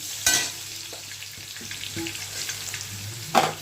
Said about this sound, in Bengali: আলুটা ভাজা হোক